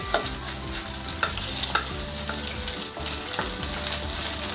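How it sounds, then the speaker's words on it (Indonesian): Eggs sizzling and being scrambled in hot oil in a pan, a steady crackling fry with scraping stirs scattered through it, close and loud with no voices. "Setelah minyak panas, lalu ini ya, goreng telur."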